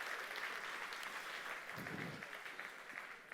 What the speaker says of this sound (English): I think a big round of applause for all of those people who have made it possible.